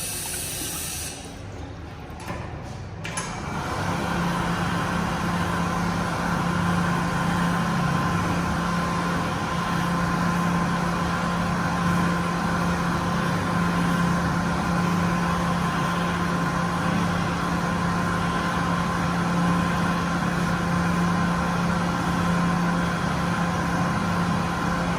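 An Excel Dryer Hands On hand dryer in the Harvard MBTA station in Cambridge, MA blasts a steady, loud, broadband rush of air with a low hum, starting after a brief quieter moment and continuing unbroken.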